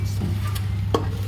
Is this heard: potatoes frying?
yes